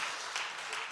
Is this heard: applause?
yes